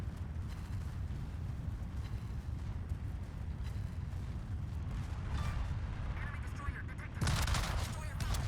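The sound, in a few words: Libertad battleship secondary guns firing, World of Warships video game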